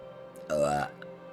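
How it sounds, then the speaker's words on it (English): A single deep, throaty burp of about a third of a second, loud and close, rising out of a quiet room, with near-silence before and after. "so sorry about the burping"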